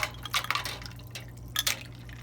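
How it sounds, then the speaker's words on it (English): Cold water and ice cubes are poured into hot melted gelatin, giving a few splashy clinks and liquid trickles in short bursts over a low steady hum, heard close. "then you pour in the cold water or juice and the ice cubes"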